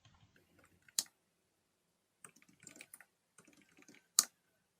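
Username and password being typed on a computer keyboard: short bursts of light key clicks separated by pauses, with two louder sharp keystrokes standing out, close and with no voices.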